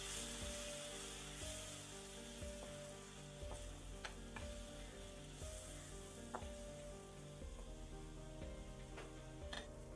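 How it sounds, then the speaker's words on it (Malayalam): Paneer and egg mixture with thick curd sautéing over a low flame, a steady soft sizzle with occasional scrapes and stirring taps from a spoon against the pan throughout. "ഇനി നമുക്കൊന്ന് ലോ ഫ്ലെയിമിലിട്ട് ഇതും കൂടെ ഒന്ന് ജസ്റ്റ് ഒന്ന് വഴറ്റിച്ചെടുക്കാം."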